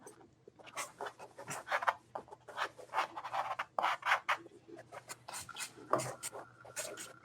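A pastel stick rubbing and scratching across paper while lighter sand is drawn in an ocean-and-dunes painting, a steady string of soft, close strokes with no talking.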